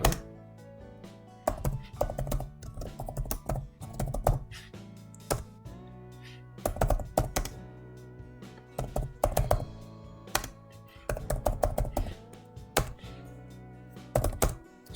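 Keys clatter on a computer keyboard as a Linux command is typed, bursts of sharp clicks and thunks coming in quick runs separated by short pauses, close and fairly clear with no talking.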